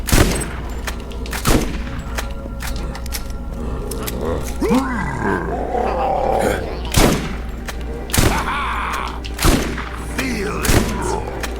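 Weapon fire in the shooter game Borderlands, a series of loud, sharp shots spaced a second or two apart, with a voice talking between them.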